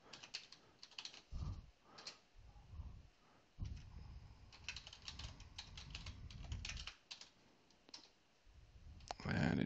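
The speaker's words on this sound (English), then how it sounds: "And it does help if I type the password correctly." Keys clatter on a computer keyboard as a password is entered, quick irregular bursts of clicks separated by short pauses, close and fairly quiet, ending with a louder key press.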